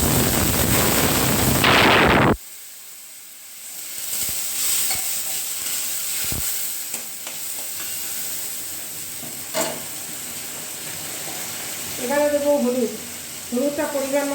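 Water poured into chickpea masala spices, ground coriander and cumin, frying in a pan: a loud burst of sizzling hiss cuts off abruptly after about two seconds. Quieter kitchen clatter follows, and a voice speaks near the end.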